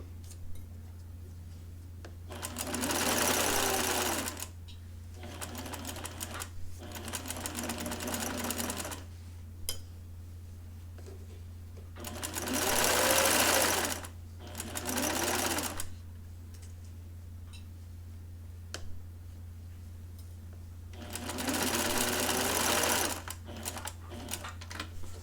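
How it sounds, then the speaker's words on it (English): Sewing machine stitching the armhole of a princess-seam blouse, running in several whirring bursts of a few seconds each, with quiet gaps between them and a steady low hum underneath. "Sometimes I have to lift the foot up if there's a little mound of fabric that would be hard to stitch"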